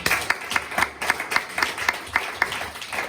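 A church congregation applauds together in steady, rhythmic clapping, evenly paced and fairly close, with no voices standing out.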